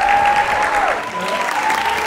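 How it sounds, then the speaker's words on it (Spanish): Loud applause from an audience at the final of a Monterrey 2019 event, continuous dense clapping with a faint tonal whistle running through it. "Fuerte las palmas para ella,"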